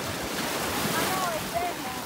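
Ocean waves at Crescent Beach in St. Augustine wash in as steady, loud surf, mixed with heavy wind buffeting the microphone and no clear talk.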